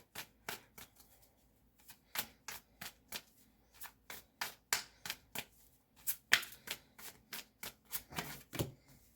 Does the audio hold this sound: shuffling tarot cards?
yes